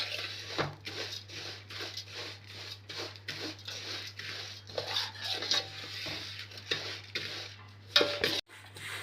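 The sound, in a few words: vermicelli being roasted and stirred in a pan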